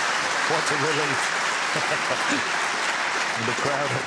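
A snooker crowd applauds a pot at the British Open 2024 quarter-final, a steady clapping roar throughout with a commentator talking over it.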